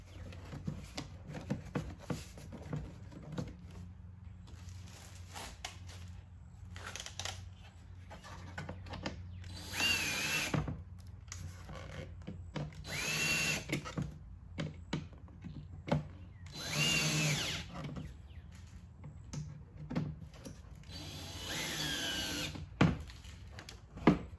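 A power tool drives fasteners on the engine air filter housing of a Mercedes-Benz E350 W212, sounding as several short, close whirring bursts spread across the clip, with quieter handling noises in between and no talking.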